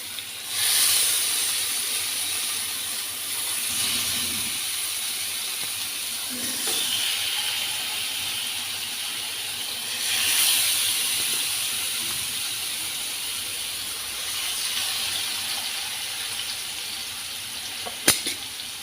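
Green masala fish fries in hot oil in a frying pan, giving a steady broad hiss with a few swelling surges and a sharp click near the end, with no voices.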